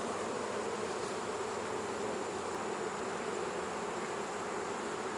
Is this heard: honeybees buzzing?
yes